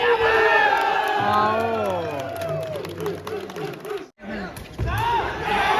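A crowd at a volleyball final between Air Force and Navy teams cheers and shouts loudly and continuously, with a brief dip in the noise. An excited announcer commentates over the din.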